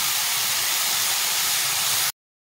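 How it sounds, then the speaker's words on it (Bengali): Cauliflower frying in oil in a pan for a Bengali rohu fish curry with potato, a steady loud sizzling hiss held evenly for about two seconds before it cuts off abruptly. "ফুলকপিটা আমার এখানে ভাজা হয়ে গেছে।"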